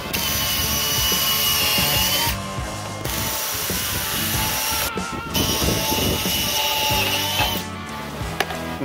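A power tool cuts through steel while building a two-post pergola, grinding and rattling loudly and continuously, with brief dips in the noise as the cut progresses.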